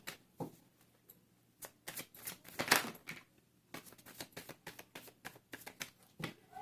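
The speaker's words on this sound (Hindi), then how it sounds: "this is my last shuffle" A deck of tarot cards is shuffled by hand in quick irregular riffles and soft slaps, close and quiet, with brief pauses between bursts.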